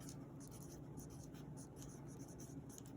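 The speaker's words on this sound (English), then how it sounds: "I'm going to go ahead and just write problem 1" A pen writing on paper, faint continuous scratching strokes close by under a low background hum.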